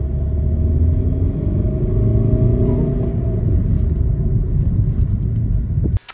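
A car speeding up around 70 to 90 km/h, its engine a steady loud rumble with rising harmonic whine throughout, heard from inside with no talk, cutting off abruptly at the end.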